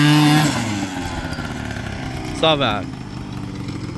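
A motorcycle engine sputters and catches, then idles with an uneven rattling chug; a brief rev flares midway while a voice speaks.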